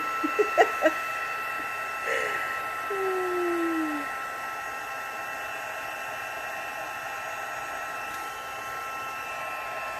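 A heat tool runs as a steady, continuous whoosh of blown air while it melts embossing powder for a black ice technique craft project, staying close and fairly loud throughout after a few brief taps at the start.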